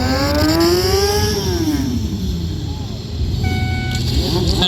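A stunt motorcycle engine revs loudly at an outdoor bike show during a brothers' stunt performance, rising and falling in pitch under constant crowd and PA noise, with a brief horn-like tone near the end.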